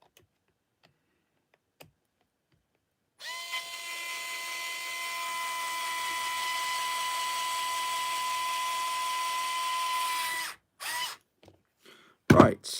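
A power drill drives bolts to fit a 3D printed cantilever kit onto a TRX4 RC truck, giving a steady, close whine for about seven seconds, then a few short, sharp bursts near the end.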